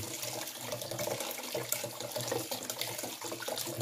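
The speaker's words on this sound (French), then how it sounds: "c'est de l'eau chaude. On laisse couler. Et on arrose" Hot tap water running steadily over a tube of acrylic or oil artist's paint, a continuous close splashing stream from the faucet with no voices.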